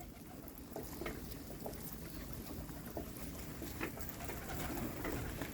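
Pigeons coo faintly amid a large flock kept in Ballimaran, Old Delhi, with soft repeated calls over a steady low outdoor rumble.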